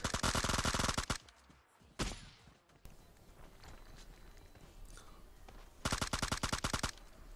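Rapid bursts of automatic gunfire in PUBG Mobile's zombie mode, a loud stuttering volley at the start and another near the end, with quieter game ambience and a brief impact between them.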